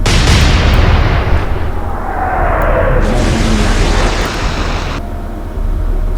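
Naval guns firing in the Atlantic Fleet warship battle game, with heavy booming blasts that roll into long rumbling echoes and a whistling shell sound, loud and close.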